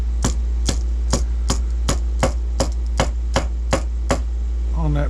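A hammer taps a wooden plank while the port-side bottom hull of a Royal Sun wooden model ship is being planked, about a dozen crisp, evenly spaced knocks close up over a low steady hum.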